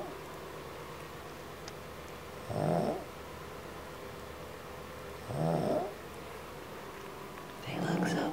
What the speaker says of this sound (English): She snores all loud.